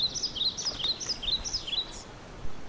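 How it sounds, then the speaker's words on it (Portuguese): Small cartoon bird chirping in an animated children's show: a quick run of bright, high tweets repeated in short bursts over roughly two and a half seconds, fairly clear over a soft background hiss. "Por que veio até mim, passarinho?"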